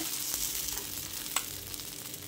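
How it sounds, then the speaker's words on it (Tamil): Garlic masala dosa cooking on a pan with oil, a soft, even sizzle running throughout with a faint tap or two, close and fairly quiet, no talking. "எண்ணெய் ஊற்றிக்கலாம். தோசை லேசாக வேகட்டும்."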